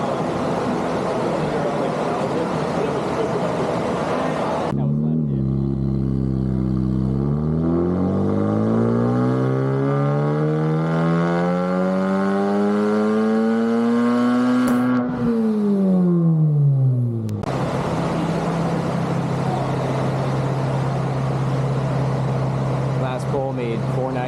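A Honda Civic Type R engine on a dyno, tuned with a raised 7,400 rpm redline, revs hard and loud through a long rising pull to the top, then drops off before settling back to a steady idle drone.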